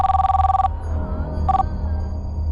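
A telephone rings with a warbling electronic tone, one long burst followed by a short second burst, loud and close, with no talking.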